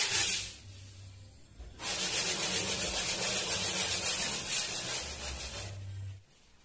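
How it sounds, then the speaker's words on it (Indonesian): Steady abrasive rubbing of sandpaper by hand on a trimmed wooden edge, close up, in a long continuous pass with brief pauses before and after. "Lalu saya amplas seperti ini agar lebih rapi"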